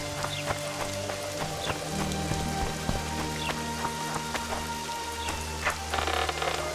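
Rain falls steadily in The Witcher 2 village outside the walls, a dense constant patter with scattered sharper drops and faint hoof-like knocks mixed in.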